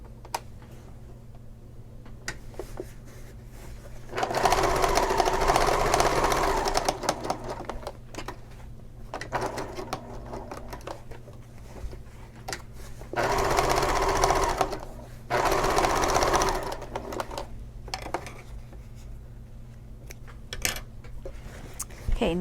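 Sewing machine top stitching a shoulder bag seam, running in three bursts of a few seconds each, with quieter handling sounds and a faint voice in the pauses between runs.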